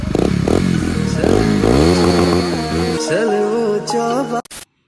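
A motorcycle engine runs close and loud, its pitch swinging up and down with revving, then it drops to a rougher idle and sputters out into silence at the end.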